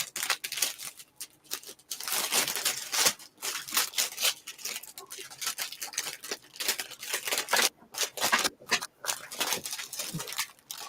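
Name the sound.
crinkling of packaging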